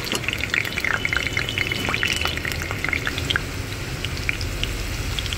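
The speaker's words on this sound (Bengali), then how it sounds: "প্রথমে আলুগুলো ভেজে নেব।" Potatoes fry in hot oil for a prawn and vegetable curry, giving a steady, close crackling sizzle with scattered bright pops throughout and no voices.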